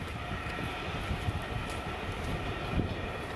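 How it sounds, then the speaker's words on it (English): A train on the Fort William to Glasgow line in the West Highlands passes with a steady rolling rumble and wheel noise, heard at a moderate distance, with no voices. "That's the train that goes from Fort William to Glasgow"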